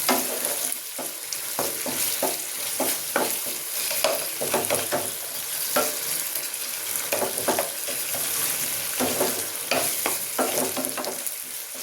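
Spice paste frying in oil in a pan, a steady sizzle punctuated by repeated scraping and stirring strokes, close up and alone.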